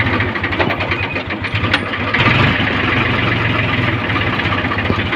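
A tractor's diesel engine idles loudly and continuously during fertilizer sowing, a steady low rumble with rhythmic knocking and a slight rise in intensity partway through.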